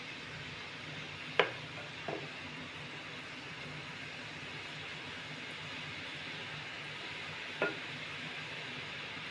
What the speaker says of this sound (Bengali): এইভাবে সব বোঁদেগুলোকে এইভাবে ভেজে নেবো আমি।